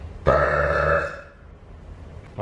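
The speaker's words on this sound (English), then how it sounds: "did you actually just get that burp on camera?" A woman lets out a single loud, drawn-out burp lasting about a second, close and clear, followed by quiet room background.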